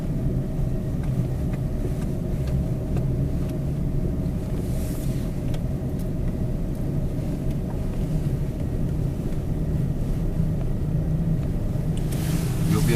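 A four-wheel-drive vehicle crawling in low gear gives off a steady, close, unbroken engine rumble with a low drone and no distinct gear changes.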